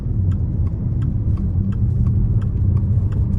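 A 2024 Subaru Solterra Limited electric SUV accelerating around a corner, heard from inside as a loud, constant low rumble of road and motor noise with faint regular ticking above it.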